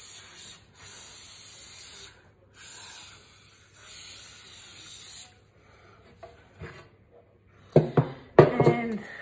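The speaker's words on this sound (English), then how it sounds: "Just going to give it a spray." Several bursts of hissing cooking oil spray onto a loaf tin, each lasting a second or two with short pauses, followed by quieter rustling and a few clattering knocks near the end.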